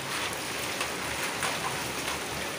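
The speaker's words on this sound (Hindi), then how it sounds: "7 बजे रात को भी आई हुई है बारिश" Evening rain after a hot day falls steadily, a dense, even hiss of drops across surfaces with no voices and no break in the downpour.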